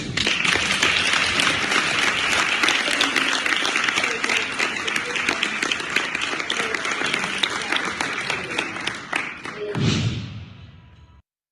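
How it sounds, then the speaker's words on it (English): Sustained audience applause in a political hall after a senator's speech about harassment, dense steady clapping from a large crowd lasting about ten seconds before tapering off with a few final claps. "Here we see she's getting all her applause."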